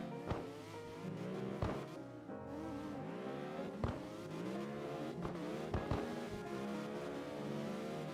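Car engines from a racing video game drone and rev continuously, with shifting harmonic pitch and sharp clicks or shifts scattered throughout, loud and steady with no talking.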